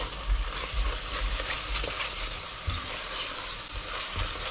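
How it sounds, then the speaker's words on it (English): A spice mix and onions sizzle and fry in a pan, with stirring scrapes and clatters breaking through the steady hiss at close range. "Now you really want to cook off these spices and make it all fragrant"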